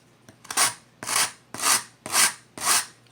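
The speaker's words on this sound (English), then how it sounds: "I need to do a little more sanding" Five even, rasping strokes of sandpaper on the edge of a hole in a wooden flute, each a smooth scratchy sweep in a steady back-and-forth rhythm, close and clear.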